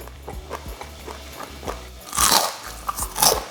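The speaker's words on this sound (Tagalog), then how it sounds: "Narinig niyo yan? Kung gaano ka-crunch yung outer part." Crisp, crunchy bites into fried chicken, several crackly crunches in a row, close up, with quieter chewing between them.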